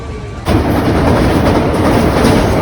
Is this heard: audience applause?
no